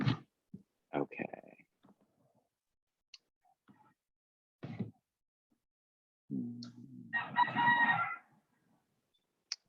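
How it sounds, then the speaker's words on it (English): Roosters crow from nearby, one long loud crow rising near the end after scattered clucks and clicks, heard during an online meeting with brief background sounds. "Oh, somebody has roosters."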